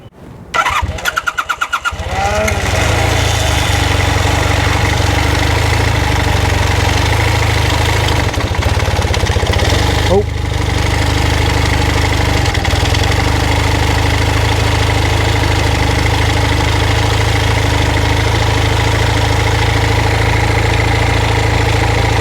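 A 1978 Honda CB400A Hondamatic motorcycle engine cranks over in short bursts, catches and settles into a loud, steady, low idle that continues unbroken to the end, with no talking over it.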